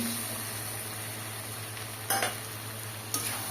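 Bottle gourd curry with hilsa fish head being stirred in a pot, a low steady simmering hiss under a constant hum, with two short sharp scrapes of a spoon against the pan.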